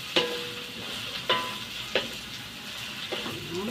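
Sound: fish cake and mushroom cake frying in a pan

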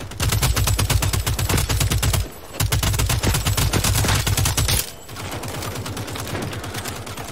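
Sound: submachine gun fire in the video game Second Extinction

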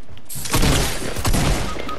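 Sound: gunfire from a video game

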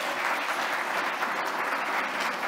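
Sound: audience applause

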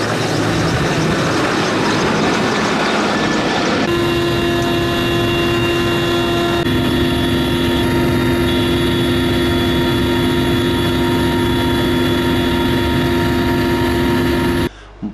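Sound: helicopter flying over forest fire area

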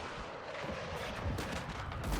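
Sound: airstrike bombs exploding in video game

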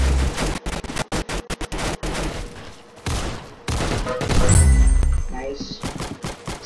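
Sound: sniper gunfire in Roblox video game

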